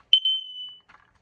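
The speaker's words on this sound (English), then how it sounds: "And you know what? Dying sound." A Kidde KN-COSM-BA smoke and carbon monoxide alarm gives its dying sound: one loud, sharp high-pitched chirp that holds steady for about half a second, fades out, and is followed by a faint brief electronic flutter.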